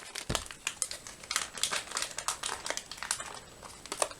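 A foil-lined South African SERAC 24-hour MRE ration package crinkled and crushed by hand, a dense run of sharp rustling crackles close up and fairly quiet.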